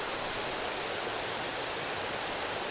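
Waterfall cascading down rock, a dense, steady broadband roar of falling water filling the whole clip with no pauses, close and loud.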